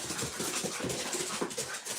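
An excited house dog pants rapidly and whimpers nearby with the zoomies indoors, breathy continuous panting with small high whines, close and fairly loud without talk.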